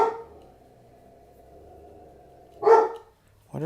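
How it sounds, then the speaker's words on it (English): Dogs barking at home: a sharp burst of barks late in the clip, after a steady low hum, with another bark starting right at the end, moderately loud and a little distant. "What are my dogs barking at?"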